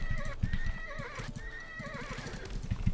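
Horses in the medieval strategy game Age of Empires 4 whinny and neigh repeatedly over a steady clip-clop of hooves, the calls rising and falling above the busy trotting.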